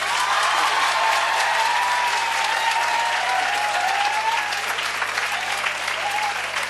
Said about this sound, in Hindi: आप अपने लिए तालियां बजा दो।